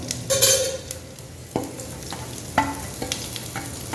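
Cumin, fennel, fenugreek and green chillies crackle and sizzle in hot oil for a village-style fish curry, with sharp pops and a few metallic stirring scrapes close by.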